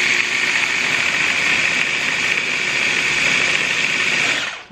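A blender whirs steadily and loudly as it spins a vegan avocado chocolate ganache, its motor droning evenly for several seconds before cutting off at the end.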